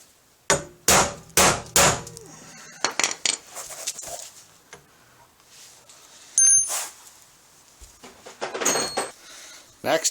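Metal-on-metal hammer blows drive a part out of a Coleman pop-up camper lift mechanism: three sharp, ringing strikes up front, then lighter scattered taps and clinks, close by and separated by quiet gaps.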